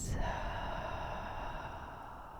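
A single soft, slow exhale during a prenatal yoga class, a gentle breathy release close to the mic over quiet sustained background music.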